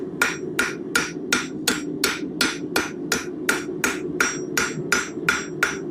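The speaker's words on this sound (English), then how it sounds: "we kind of turn the material as we're hammering" Blacksmith hammering corkscrew stock while turning it to round out the faces, about fifteen sharp metallic blows at a steady, even rhythm, loud and close with nothing else heard.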